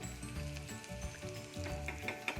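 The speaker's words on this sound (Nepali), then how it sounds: "हामीले प्याजलाई लो फ्लेममा फ्राई गर्ने।" Chopped onion frying on a low flame for a potato and eggplant curry, giving a steady close sizzle with small crackles and pops throughout, no talk.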